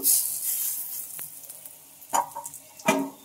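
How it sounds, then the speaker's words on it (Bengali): Jackfruit fritters sizzle in hot oil, a soft, fairly quiet crackle with a few sharper pops and clicks near the end, as though the fritters are being turned over in the pan. "তো চলো এগুলো এখন উল্টে পাল্টে একটু ভালোভাবে ভেজে নিতে হবে।"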